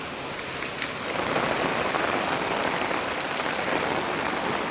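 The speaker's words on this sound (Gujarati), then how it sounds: "એટલો વરસાદ આવે છે" Heavy rain pours steadily onto surfaces outdoors, a dense, even hiss of drops that swells slightly after the first second and holds loud and constant throughout, with no voices.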